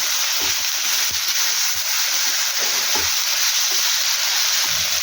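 Tomatoes with turmeric, salt and tamarind sizzle steadily in a pan, a constant loud frying hiss with faint stirring knocks underneath, no voices.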